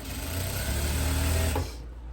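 A sewing machine runs steadily as it topstitches the back neckline of a kimono-style dress, a close, continuous buzzing whir that cuts off abruptly near the end.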